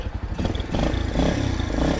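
A restored 2008 Yamaha Junoon 100cc motorcycle engine runs at idle nearby with a steady, fast putter and some rattling clatter, no talking.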